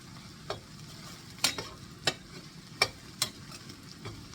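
Onions turning golden in a frying pan for paneer peas pulao sizzle steadily while a utensil scrapes and taps through them in a loose rhythm of sharp clicks, close and without talk.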